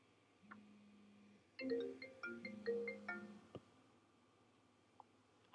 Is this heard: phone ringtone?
yes